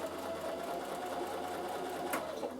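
Bernina sewing machine stitching a narrow seam in fabric, a steady continuous whirring hum that runs throughout at close range with no talk.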